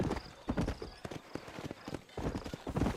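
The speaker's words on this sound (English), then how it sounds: "let me get on the horse right quick" Horse hooves clip-clopping steadily on a trail in the video game Red Dead Redemption, a close, rhythmic run of hoofbeats with a faint voice over them.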